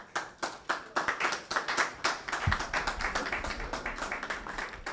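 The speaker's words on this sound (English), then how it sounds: "I think the clapping has been sporadic." Scattered hands clap at a university press briefing, a thin, uneven run of individual claps from a small audience, fairly close and moderately quiet, with no talk over it.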